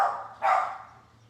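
A dog barks twice, a short bark then a louder one, fairly close, with a low hum underneath.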